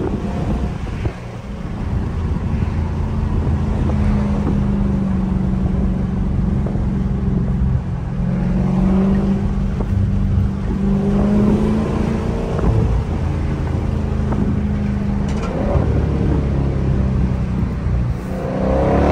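A 2023 Dodge Scat Pack's engine rumbles and revs while driving, heavily buffeted by loud wind noise against the microphone throughout, with no talking.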